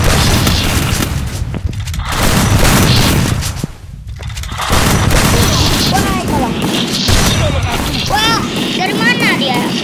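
Free Fire shotgun match with loud, dense in-game gunfire and booming blasts running almost throughout, briefly dipping mid-way, while a player talks over the action.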